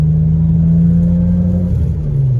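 A BMW 335i with a manual gearbox accelerating, exhaust tone coming through its mufflers: a loud, close, steady low engine drone that holds then shifts pitch slightly near the end, no voices.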